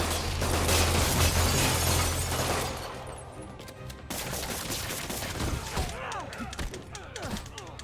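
Gunfire and explosive bursts from the Spider-Man video game, loud, dense and rapid in the opening seconds, then thinning to scattered pops and impacts with voices and game effects mixed in.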